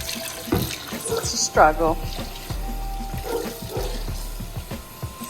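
Tap water runs into a sink while a stove part is rinsed, a steady splashing wash with a spoken remark over it near the start.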